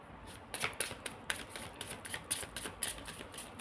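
Tarot cards shuffled by hand, a quiet series of soft, papery riffling bursts in an irregular rhythm with no voices.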